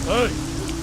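Rain falls steadily in a film scene, a soft close hiss lasting under a second with a brief voice over it.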